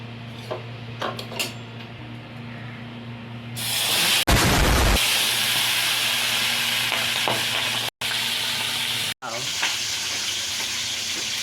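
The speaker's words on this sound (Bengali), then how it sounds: "মাছটা ভাজা হচ্ছে" Pabda fish fry in hot oil in a wok, starting quietly with small clinks, then bursting into loud, dense crackling sizzle as the fish go in, with two brief cuts in the sound and spatters continuing.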